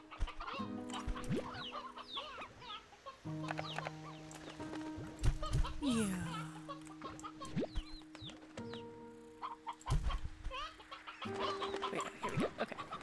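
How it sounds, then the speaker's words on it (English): Stony hens in the Slime Rancher video game cluck and squawk repeatedly in short bursts over layered game music and chimes, with a few louder cackles standing out near the middle. "Have stony hens in here."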